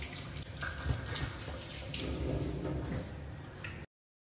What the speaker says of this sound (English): I'm going to put in my warm water.